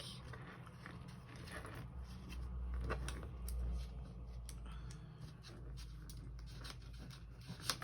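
Scissors cut paper for a handmade envelope journal, a soft, continuous rasping and clicking of blades working through the sheet at close range, with a small sharp snip at the end and no speech.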